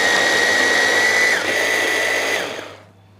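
An electric chopper with a motor unit finely chopping onions, a loud, steady high-pitched whine that drops in pitch partway through and then winds down to silence.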